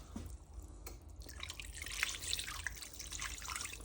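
Stock and water being poured into an Instant Pot while a pork shoulder cooks, giving a soft, faint splashing trickle with a few drips, heard alone.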